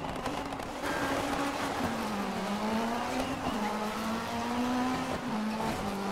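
A rally car in DiRT 3 on Xbox 360 drives hard with a steady, droning engine note that rises and dips through gear changes, loud and continuous over gritty tire noise.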